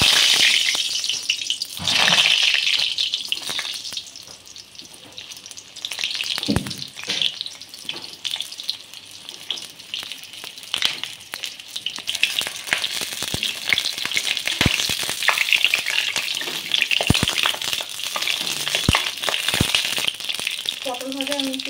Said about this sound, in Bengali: পটলগুলো দিয়ে দিচ্ছি ভাজার জন্য।